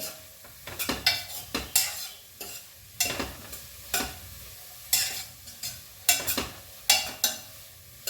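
Mixed vegetables with cabbage and peas fry in butter in a pan, a soft sizzle broken by a close, rhythmic series of spatula scrapes against the metal as they are stirred.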